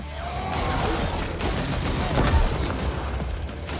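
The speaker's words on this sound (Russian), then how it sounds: "Только вот бочки, как и 30 лет назад, жахают нам на радость." Barrels and cars exploding in the video game The Ascent, a dense, continuous rumble of blasts and gunfire-like bursts over about four seconds, loud and close with no talking.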